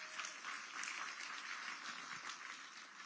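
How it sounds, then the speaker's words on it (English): Audience applause fills a room at an evening community event, a steady, dense wash of many hands clapping at moderate distance, holding evenly throughout. "yes, give them a round of applause."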